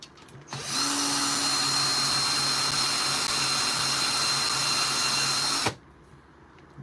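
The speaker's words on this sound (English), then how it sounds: "smoothing that baby out on 100 grits" A coin ring is sanded with 100-grit abrasive on a power tool at a workbench, a loud steady whine that starts abruptly, holds for about five seconds and then cuts off.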